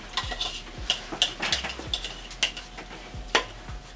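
A spoon clinks and scrapes against a pan as sauce ingredients cook, with soft sizzling beneath a steady series of close metallic taps; no voices.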